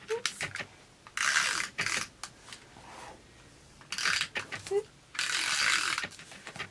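Adhesive tape runner pressed and rolled along the back of a Stampin' Up! punched card panel, giving two long, close raspy strips separated by small clicks and taps, with a voice speaking briefly in between.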